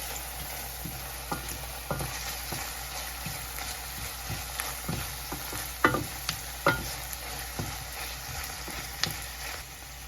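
Mustard seeds frying in hot oil in a pan, a continuous soft sizzle with irregular sharp pops and crackles, close by and steady, with stirring scrapes and no talking.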